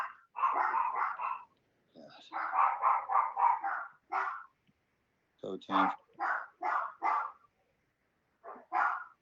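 Small Yorkie dogs bark in rapid clustered bursts of yaps with brief pauses between, fairly close, while someone briefly speaks.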